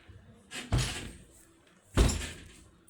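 A tight door gets forced open in two hard, thudding bumps about a second apart, each a sharp knock trailing off into a brief rattle, fairly close and with no talk over it.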